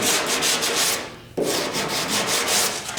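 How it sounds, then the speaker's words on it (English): A block sander rubs steadily across the body filler on an old pickup truck's cab corner in quick back-and-forth strokes, stopping briefly once before starting again, with no voices. "we're using a block sander"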